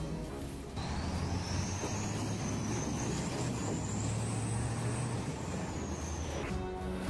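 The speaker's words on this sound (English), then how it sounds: "A truck loaded with timber, navigating through tough, frozen terrain." A heavy truck loaded with timber drives over frozen terrain, its engine a constant low rumble joined by a long, steady high-pitched whine that rises and falls over several seconds, with no talking.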